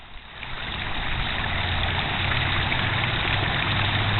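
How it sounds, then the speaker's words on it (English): Water fountain splashing in a small town park, a steady broadband rush of falling water that holds constant throughout, with a low engine-like hum underneath. "Look at this beautiful water fountain."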